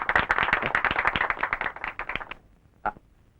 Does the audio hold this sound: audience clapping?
yes